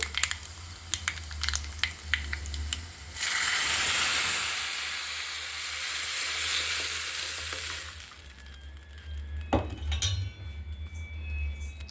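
Spices for Andhra-style pachipulusu, a raw tamarind soup, hit hot oil in a tempering pan with a loud, steady sizzle lasting several seconds, framed by clinks of a pan and utensils before and after.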